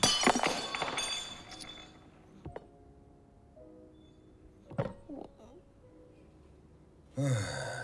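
A cup shatters in a restaurant, a sharp crash of breaking crockery followed by scattered clinks of falling pieces, with sighs and faint voices around it.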